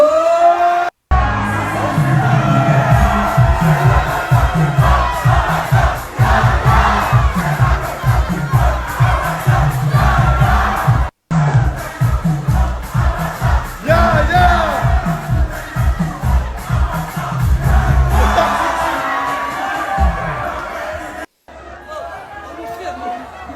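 Festival crowd cheering and shouting in loud bursts, with clapping and excited chatter throughout, and brief cutoffs between the bursts.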